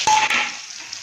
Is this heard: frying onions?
yes